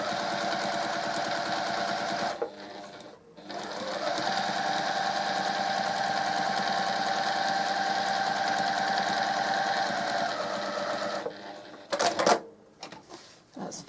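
A sewing machine stitches a quarter square triangle quilt block with a quarter-inch seam, a fast steady mechanical whir that runs for several seconds, pauses briefly, resumes, then stops with a few clicks and handling noises.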